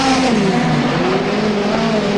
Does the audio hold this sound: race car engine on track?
yes